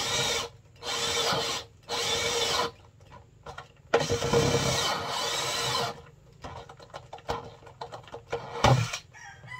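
A power drill boring holes in pipes for a crayfish water filtration setup, in several loud bursts of whirring separated by pauses, with a rooster crowing and chickens clucking in the background.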